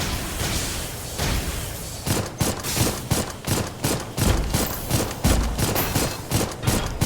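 Rapid rhythmic bursts of weapon fire and impacts sound in the Dolls Nest video game as torpedoes fire through a water treatment level, loud dense thuds with a sustained rumbling bed beneath.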